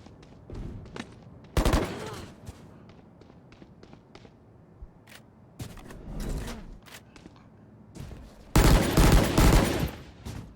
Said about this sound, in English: Shooting into the smoke, doesn't hit anything there